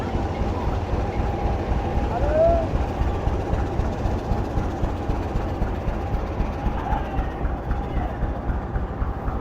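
A Pakistan Railways Quetta division locomotive hauls a train on the Larkana to Kotri route, producing a steady, close, low rumbling roar with continuous rolling rail noise and a faint squeal now and then.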